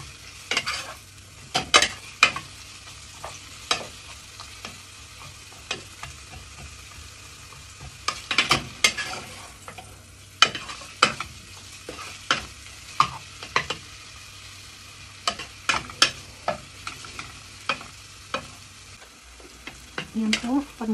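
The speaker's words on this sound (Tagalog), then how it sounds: "Kailangan po lutuin natin yung onions na maging parang caramelize natin siya." Onions caramelizing in a pan, with a quiet continuous sizzle broken by frequent sharp clicks and scrapes of stirring, close and alone over a long stretch.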